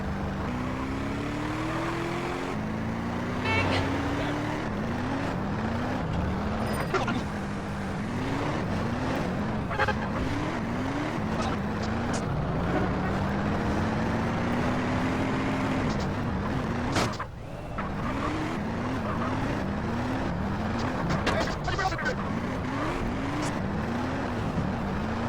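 Car driving through the streets in GTA San Andreas, an engine revving and shifting through repeated rising pitch sweeps as gears change, with occasional clunks and brief sharp noises along the way.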